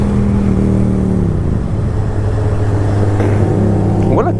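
A loud, steady motorcycle engine hum in a Hayabusa comparison, with low droning tones that dip and then rise near the end as the revs pick up, and a faint voice mixed in.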